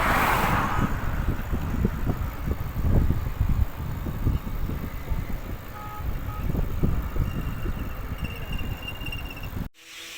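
Road traffic hums steadily near a gurdwara among fields, a continuous rumble of passing cars and trucks with faint beeps and wind, and no voices.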